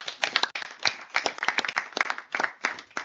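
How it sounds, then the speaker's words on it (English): A small group claps steadily with uneven, overlapping hand claps throughout, moderately close and not very loud, at the close of a project seminar. "And also an applause to all of you."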